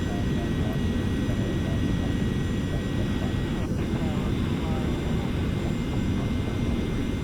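Jet engine drone of a Carenado 390 Premier IA in the Prepar3D v4 flight simulator, a steady loud low rumble with a faint high whine, continuous throughout.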